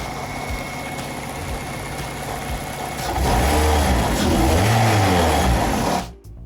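K-swapped Honda Civic EG with a Type R engine running through a heat cycle, idling steadily, then rising into a louder, rougher run before cutting off abruptly near the end; close and alone, with no voices.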